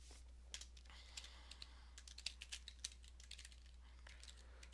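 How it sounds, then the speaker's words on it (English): Someone types text on a computer keyboard, producing soft, irregular key clicks in short bursts over a quiet room with a steady low hum, and no voices. "I cannot type whatsoever today."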